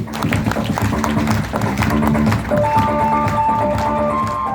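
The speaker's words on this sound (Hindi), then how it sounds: "जोरदार ताली हो जाएगी" An audience applauds loudly and steadily at a gathering, with music playing alongside the clapping.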